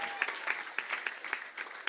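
Sparse, thin applause from a school audience at a student competition grand final, scattered individual claps with no real rhythm, fairly quiet and close.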